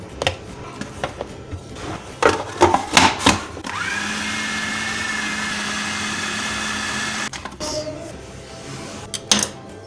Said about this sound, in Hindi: अब हमने इसको चॉपर में बारीक पीस लिया है